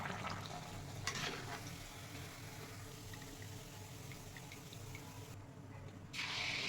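Rice and jaggery pua fry in a pan with a soft, continuous sizzle and hiss, with a few light scrapes and clatters as they are pressed down.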